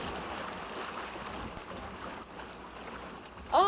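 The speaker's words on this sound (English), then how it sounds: "Ah, the open sea" A sailboat out on the open sea, with a faint, steady wash of water and wind rushing throughout, and a brief sharper sound cutting in at the very end.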